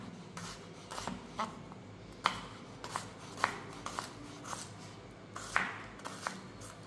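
A knife chops onions on a cutting board in a home kitchen, a run of light, crisp taps at an uneven pace, quiet and close over faint room noise.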